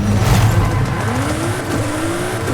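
A Nissan Fairlady 350Z engine in a racing video game revs loudly, its pitch climbing steadily as the car accelerates, with continuous road and motor noise throughout.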